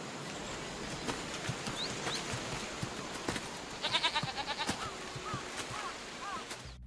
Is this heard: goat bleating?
yes